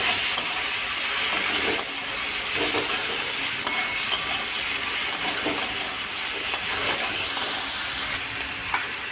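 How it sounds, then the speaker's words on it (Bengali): Chicken being stirred with potatoes and onions in a frying pan, a continuous close sizzle with repeated spatula scrapes and clicks against the pan, and no talking. "দিয়ে চিকেনটা আমি এবার আলু পেঁয়াজের সঙ্গে মিশিয়ে নেবো ভালো করে,"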